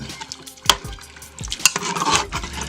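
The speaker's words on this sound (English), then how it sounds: "So we're gonna mix this up a little bit." Beef broth mixture being stirred in a Power Pressure Cooker XL for Mongolian beef, with a utensil scraping and clinking against the pot in a few sharp strokes and a soft liquid swish between them, heard up close with no talk.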